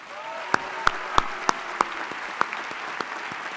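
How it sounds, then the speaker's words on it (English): A commencement audience applauds, loud sharp claps standing out over a softer spread of clapping from the crowd, sustained for a few seconds. "Give yourselves a mighty round of applause."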